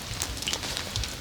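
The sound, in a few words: rain falling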